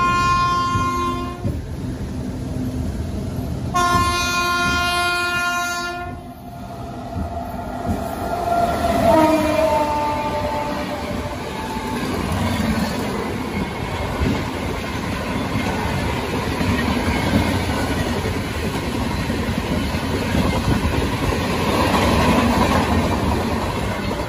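The Nandankanan Express overtakes a Bhadrak–Cuttack MEMU train on the line to Puri, sounding two long loud horn blasts before a sustained rumble and clattering rush of the passing train from close by.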